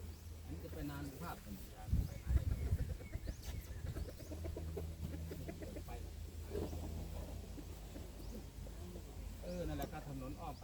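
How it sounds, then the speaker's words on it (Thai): Domestic chickens cluck in scattered, fairly quiet bursts on a rural rice farm, mixed with outdoor background noise and people talking. "ไก่บ้านค่ะพี่น้องไก่บ้าน"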